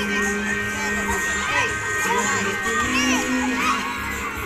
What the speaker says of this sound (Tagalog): ito yung kid pool sa mga kids.